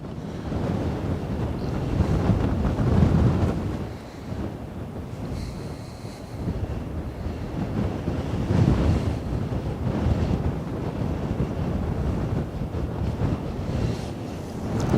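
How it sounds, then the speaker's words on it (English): Wind and waves at the Westerschelde in the Netherlands, with gusty wind buffeting the microphone over the steady wash of surf and water, swelling and easing in waves, no voices present. "It's actually getting a bit chilly with the wind as it's picking up."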